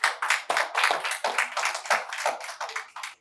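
Steady applause from a crowd, many hands clapping in a dense, continuous rhythm for a few seconds.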